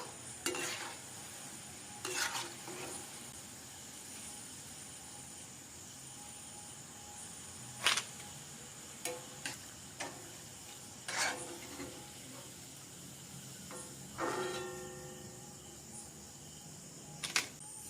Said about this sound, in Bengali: তালের বড়া ভাজা হয়ে গেছে, পাত্রে ঢেলে দিয়েছি